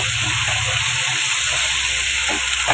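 Shrimp frying in a hot pan gives a loud, steady, close sizzle and hiss that runs unbroken throughout.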